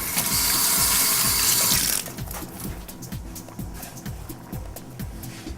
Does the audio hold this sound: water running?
yes